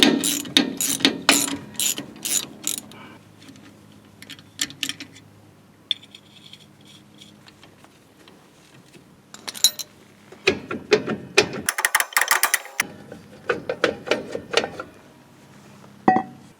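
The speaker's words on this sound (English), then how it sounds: "I'll put this bolt in here and tighten it down to start pulling the drum off" A ratchet tightens a bolt to pull the rear brake drum off a Toyota Tacoma. Rapid clicking runs in repeated bursts up close, with pauses and a few metallic clanks between strokes.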